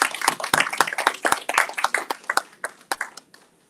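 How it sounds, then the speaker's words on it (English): A small workshop audience claps after a presentation, with distinct individual hand claps ringing out close by in a fairly loud, uneven burst that thins out and fades toward the end. "Can we give him a round of applause, please?"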